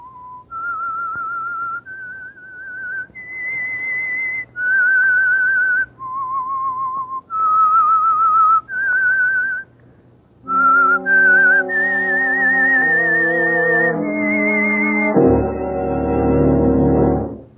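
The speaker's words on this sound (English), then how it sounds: "That whistle is your signal for the Signal Oil Program, The Whistler." Whistled theme signal of The Whistler radio program, a clear melodic tune of sustained notes that ends on a fuller orchestral chord, loud and close with no talking.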